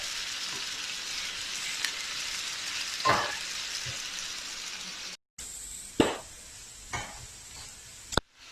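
Sliced onion sautéing in a pan with salt for a mushroom pepper fry, an even sizzle with a few sharp spatula knocks and stirring scrapes, briefly cut off partway, no voices.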